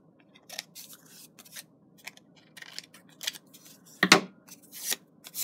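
Scissors snip through craft paper in a series of short, crisp cuts, some in quick bursts and one louder near the end, close and clear against a quiet background with no talking.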